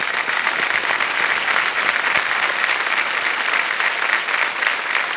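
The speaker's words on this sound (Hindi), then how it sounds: "तालियां बज जाएं इनके लिए।" Sustained studio audience applause on a TV quiz show set, a dense, steady wash of many hands clapping at full loudness throughout with no pause.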